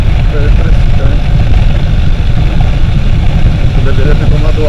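A Suzuki Intruder 125 motorcycle cruises with its engine droning steadily, mixed with constant loud wind rush across the microphone, running unbroken throughout.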